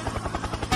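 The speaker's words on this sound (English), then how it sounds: "Helicopter! Helicopter!" A helicopter in MechWarrior 4: Vengeance thumps with a rapid rotor pulse for a brief moment before a sudden louder burst cuts in at the end.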